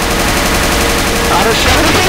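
An auto shotgun fires in Left 4 Dead survival mode as a loud, dense string of rapid blasts that runs without a break, with game noise mixed in.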